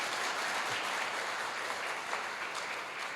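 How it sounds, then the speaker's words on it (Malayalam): An audience at a workers' conference applauds Alex, a continuous wash of many hands clapping at a steady, moderate level throughout. "നമ്മുടെ അലക്സിന് ഒരു കയ്യടിയോടെ കൊടുക്കുന്നതിന് തെറ്റില്ല."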